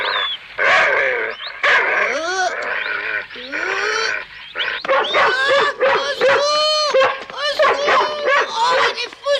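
A dog in a French-dubbed animated Tom Sawyer episode barks repeatedly, loud and close, in short, sharp bursts mixed with excited yelps. A voice talks between and over the barks.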